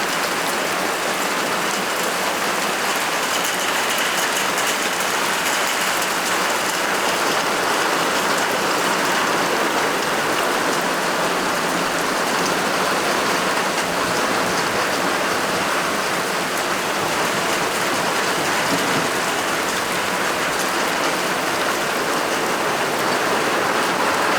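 Rain falls steadily on a homestead as a dense, even hiss that runs unbroken and moderately loud with no talk.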